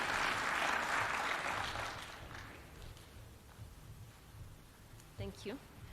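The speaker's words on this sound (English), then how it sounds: "Why don't we welcome them with a clap?" An audience applauds to welcome two innovators at a live event. The clapping is dense at first and fades over about two seconds, leaving quiet room noise and a few faint voices.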